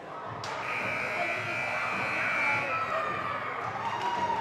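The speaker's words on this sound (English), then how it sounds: "And that's the buzzer sounds, which means we're ready to go." A long, loud electric buzzer drones for several seconds across a noisy hockey rink before a girls' game, with crowd murmur and voices beneath it.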